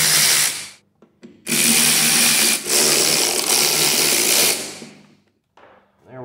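Power tool whirring as screws are backed out of a mass air flow sensor on a Crown Victoria using an extension, two loud sustained bursts of motor noise with short pauses between them.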